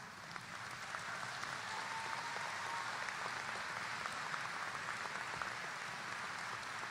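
A large commencement crowd applauds faculty and staff at a graduation ceremony, a steady, even roar of clapping heard from a distance and sustained for the whole stretch.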